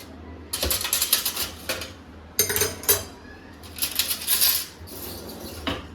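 Steel spoons and utensils clink against each other in a home kitchen while tea and milk are being heated, with bursts of bright metallic rattling and clatter separated by brief pauses.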